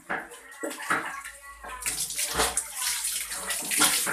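Water running and splashing as a child is rinsed off in a bathtub, with a close gushing flow that swells louder partway through, under soft scattered speech.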